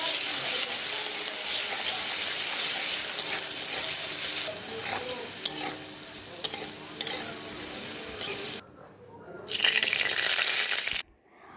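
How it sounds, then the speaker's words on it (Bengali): Potato pieces fry in oil with salt and turmeric, giving a continuous close sizzle with stirring scrapes that cuts out briefly near the end before resuming. "তাতে পরিমাণ মতো নুন আর হলুদ দিয়ে আলুগুলো লাল লাল করে ভেজে নেব।"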